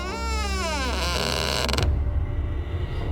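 A door slowly creaking open on its own for a horror story, a long drawn-out wooden creak with sweeping, wavering pitch that ends abruptly into a low rumbling ambience, heard alone.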